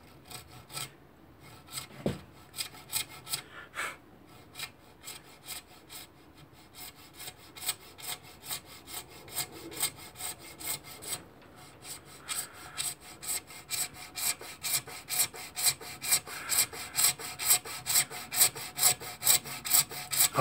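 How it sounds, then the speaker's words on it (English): A hand coping saw cutting into wood with rasping strokes, starting slow and irregular and then settling into a quicker, steady back-and-forth rhythm, close and fairly quiet. "Tighten my coping saw, guide it with my thumb."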